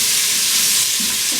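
Onions and bacon fat sizzle loudly in an Instant Pot as they are stirred, producing a dense, steady frying hiss that fills the whole short moment without any speech.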